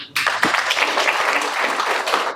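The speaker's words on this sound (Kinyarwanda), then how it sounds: "Uyu musore mwamubereye amashyi." An audience bursts into dense, loud applause for a young man at an Islamic religious gathering, close and continuous for about two seconds before tapering off.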